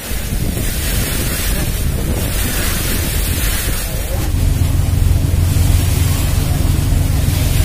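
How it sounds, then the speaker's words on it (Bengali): Sea waves wash steadily around a boat on a river-and-sea journey from Dhaka to Chandpur. A continuous surging rush with heavy wind buffeting the microphone thickens into a louder low rumble about halfway through. "সমুদ্রের ঢেউর যে সাউন্ডটা, এটা মিস করবেন না"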